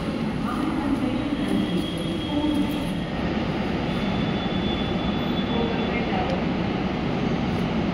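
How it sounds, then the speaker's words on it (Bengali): Metro train at a station in Kerala, a steady loud rumble of the rail car running throughout with continuous broadband noise and faint background voices. "স্বপ্ন তো খুব আনন্দ, আজকে মেট্রোতে উঠবে প্রথম।"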